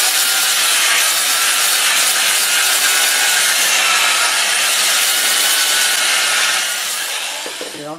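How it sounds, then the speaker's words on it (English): Steady, loud abrasive rubbing of sandpaper on apple wood spinning on a lathe at around 300 RPM, continuous and close, easing off slightly at the end. "Got the lathe running forward at around 300 RPM."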